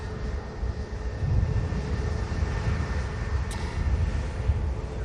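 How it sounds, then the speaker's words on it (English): A Saudi Boeing Dreamliner landing at Manchester Airport after a flight from Jeddah, heard as a steady broad jet-engine roar with wind rumble throughout, moderately loud and without talking. "Saudi Dreamliner next to landing from Jeddah."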